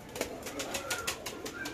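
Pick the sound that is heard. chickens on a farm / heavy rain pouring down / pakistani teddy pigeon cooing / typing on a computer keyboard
pakistani teddy pigeon cooing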